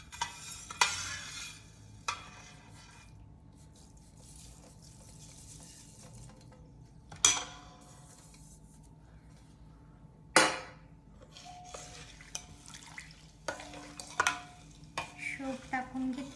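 Coarsely crushed fennel seeds dropped into hot oil and stirred, with a few sharp clatters and scrapes of the utensil against the pan over a faint, quiet sizzle.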